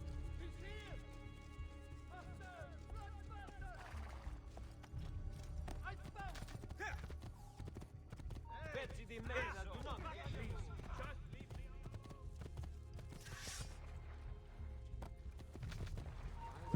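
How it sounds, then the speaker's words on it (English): Hooves clip-clop at a steady, quick pace in Assassin's Creed 2, with scattered effects and faint background music, fairly quiet throughout. "Oh, I was trying to get on that horse."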